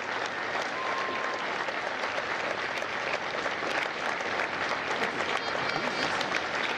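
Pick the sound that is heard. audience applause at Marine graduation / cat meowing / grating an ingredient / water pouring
audience applause at Marine graduation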